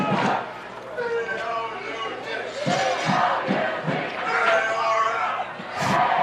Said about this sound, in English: You can hear the crowd getting into it down here